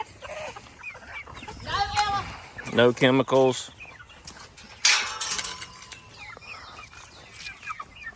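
Pastured chickens on a farm, made muddy by overnight rain, cluck and squawk in short bursts nearby while someone talks between the calls.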